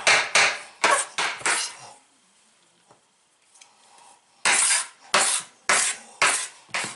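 Fresh cilantro is chopped with a knife on a cutting board in quick bursts of sharp, close taps, a pause of near silence in the middle, then another rapid run of chops.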